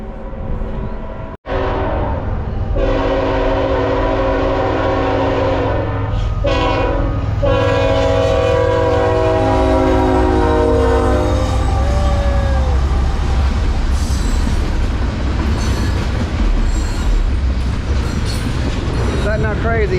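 A train rolls past at close range near a bridge and gravesite, its loud horn blaring in long sustained tones over a heavy rumble of wheels and clattering cars, with squealing as it continues by.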